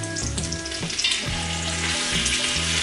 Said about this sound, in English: So we got our bacon cooking in there, getting all crispy.